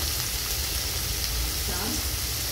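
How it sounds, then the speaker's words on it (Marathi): Mutton dalcha sautés in a pan with a constant, dense, close sizzle and light stirring, holding at an even level throughout, with a faint voice briefly under the frying. "परतून घेऊया"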